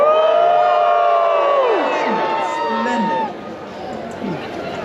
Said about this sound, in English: You may cheer for Ebenezer and Tim now.